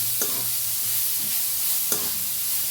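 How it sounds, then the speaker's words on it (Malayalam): A pan of crushed ginger, garlic, green chilli and curry leaves being stirred for a homemade chicken curry, with a steady soft sizzle and a few distinct spoon scrapes spaced across the clip. "ഇനി നമുക്കത് ഇളക്കാം"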